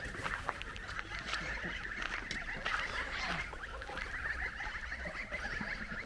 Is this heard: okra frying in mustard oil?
no